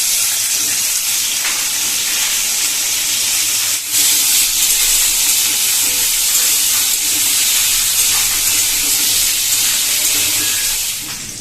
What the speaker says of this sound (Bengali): এই তেলের মধ্যে আমি তরুলিগুলো ভেজে নেব।